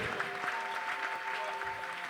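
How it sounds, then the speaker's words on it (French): A congregation at a mass prayer service in church applauds for a preacher, a soft, continuous patter of many hands heard at a distance, with a faint sustained musical tone running underneath. "Applaudissez pour le prophète Philippe Banda."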